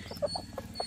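Country chickens cluck softly in short, scattered calls, about four faint notes in under a second, with a low steady hum underneath.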